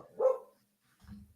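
A dog barks once at moderate distance, a short rough bark, followed after a pause by a lower, fainter grumbling sound, with no talking.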